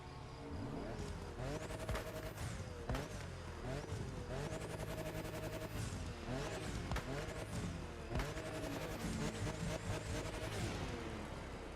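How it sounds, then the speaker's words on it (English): A Liberty Walk Toyota Supra in The Crew Motorfest revving hard, its engine note climbing and dropping through repeated rising sweeps and gear changes, loud and continuous, with a voice talking over it. "listen to that engine."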